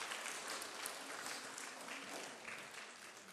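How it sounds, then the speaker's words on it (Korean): Sustained applause from a large church congregation during Sunday service, dense and even throughout, heard from a moderate distance. "우리 박수로 격려하시겠습니다"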